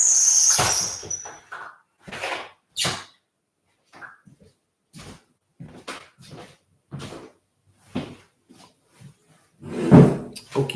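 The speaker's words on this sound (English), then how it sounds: "I'm going to shut my closet door real quick." A closet door is shut indoors, with a string of scattered knocks and bumps and a louder thud near the end, close to the microphone and without talking.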